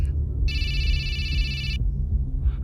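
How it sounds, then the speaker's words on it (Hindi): A telephone bell rings in one sustained electronic trill lasting over a second, loud and close, then stops, as a sound effect within a Hindi horror story. "शैलेंद्र ताऊजी का अचानक से उस रात को 3 बजे फोन आया"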